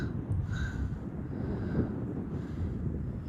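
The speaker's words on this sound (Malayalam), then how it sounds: "പക്ഷെ ഭയങ്കര കാറ്റാട്ടോ, കാറ്റ് ഒരു രക്ഷയില്ല" Strong wind sweeps across a mountaintop in Germany, a steady rushing roar buffeting the microphone with low rumble and no voices over it.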